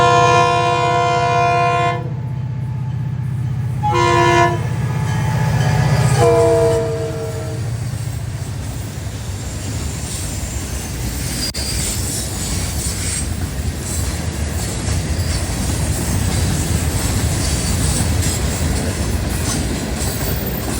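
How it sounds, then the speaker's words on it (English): A Florida East Coast Railway local freight train passes nearby in New Smyrna heading north, sounding several long horn blasts early on, followed by a steady rumble and clatter of wagons rolling by. "here we see the new Smyrna local number 910 heading north to service the Daytona and"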